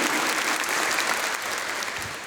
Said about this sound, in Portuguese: Então dá uma salva de palmas.